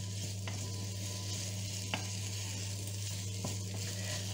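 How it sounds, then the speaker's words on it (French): Meat for a pork-and-lentil dish sautés in a pan, a soft, steady sizzle over a constant hum, with a few sharp spoon clicks as it is stirred. "On remue. Je vais faire revenir"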